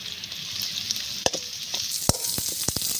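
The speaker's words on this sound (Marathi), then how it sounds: "आता हे कांदे आपण परतून घेतले आहे तेलामध्ये छान" Onions frying in oil for palak paneer, a steady close sizzle with a few sharp clicks of a spoon stirring against the pan.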